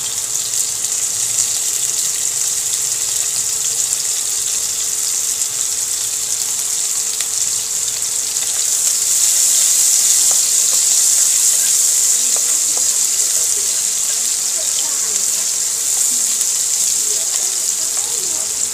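Garlic frying in a pan while ginataang tilapia is cooked: a continuous bright sizzle that swells a little partway through, with faint clinks and no clear speech.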